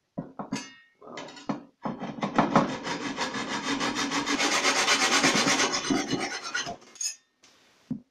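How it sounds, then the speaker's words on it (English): Steady back-and-forth strokes of a hand saw cutting through wood, loud and close, continuing for several seconds before stopping, with a few knocks at the start. "just gonna start sawing away."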